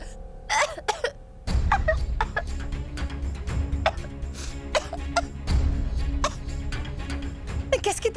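A young man coughs and clears his throat repeatedly in short, sharp bursts at close range. Brief pauses fall between the coughs, and faint background sounds sit underneath.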